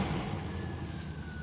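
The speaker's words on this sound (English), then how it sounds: "We also hear a lot of the electric drive motor. You can hear the whistle." A thin, steady high whine rises from the electric drive motor of a Mercedes S930 Brabus with a V8, a faint whistle held above a low rumble of road and engine noise inside the car.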